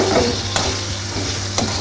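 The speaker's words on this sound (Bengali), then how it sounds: "গোটা জিরে ফোড়ন দিয়ে আলুগুলো দিয়েছি" Potatoes fry with whole cumin seeds in a kadai, giving a steady close sizzle punctuated by two sharp spatula scrapes about a second apart.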